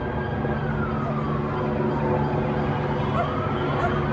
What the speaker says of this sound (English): But they are lights and sirens en masse.